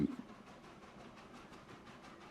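A train running in the video game Transport Fever 2, a soft steady rumble with faint regular rhythmic clacks, fairly quiet and continuous, with no voice over it.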